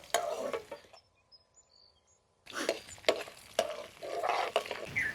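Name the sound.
tempering spices and green chillies frying in oil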